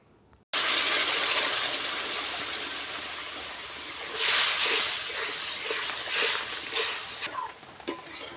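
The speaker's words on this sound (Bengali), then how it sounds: "এবার জল দিয়ে দেব" Water is poured suddenly into a hot cooking pot of sautéed potatoes and spices for a Bengali fish curry, giving a loud hissing rush and sizzle that fades slowly, with a few later surges.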